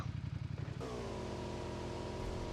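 A car engine in the mobile game PUBG Mobile runs steadily with a droning hum after a few rhythmic thumps, heard at moderate level with no talk.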